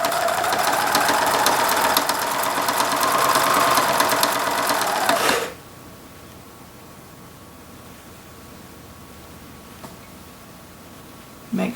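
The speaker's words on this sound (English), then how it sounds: "I have my 1/4 inch piecing foot, and I'll be sewing in pattern as the pieces are laid here." A sewing machine with a quarter-inch piecing foot stitches fabric prairie points, a loud steady mechanical whir that runs continuously, then stops abruptly, leaving a quiet room with a faint hum.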